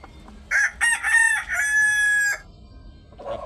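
A rooster crows nearby, a loud, clear cock-a-doodle-doo in several bursts ending in a long held note, then a short softer call after a pause.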